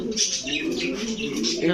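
A red checker racing pigeon in a pigeon shop gives soft, close cooing calls, while someone talks over them throughout.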